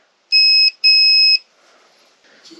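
A voltmeter on its continuity setting, testing a switch from a Sharp RV microwave, gives two sharp, high electronic beeps close together, followed by faint handling noise.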